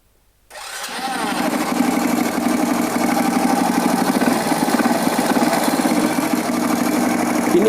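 A motorcycle engine with mis-adjusted valves starts from silence and settles into a loud, close, steady idle, with a fast rhythmic ticking running through the mechanical drone.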